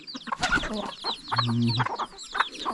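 Chickens cluck and call in a rural Thai farmyard, with several close, overlapping clucks and squawks in quick succession, one longer low call in the middle.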